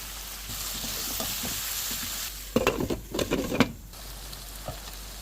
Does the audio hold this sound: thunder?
no